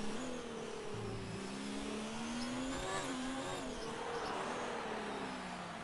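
Race car engine droning and shifting pitch as it laps a circuit, a continuous loud whine with rising and falling tones throughout.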